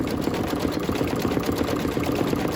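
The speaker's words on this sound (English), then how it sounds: "it's going to be a little rackety because it's stitching over where it's stitched" An embroidery sewing machine restitches over existing stitching on a turkey mug rug, a loud, close, rapid rackety rattle running steadily throughout.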